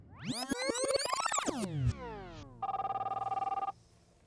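A 1984 cellular mobile telephone rings loudly and alone, first with sweeping electronic warbles and chirps, then a steady buzzing ring tone for about a second before it cuts off.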